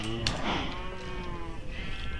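Cows mooing in the Minecraft video game on a cow farm: one low, drawn-out moo close by, with a faint overlapping call behind it, no talk.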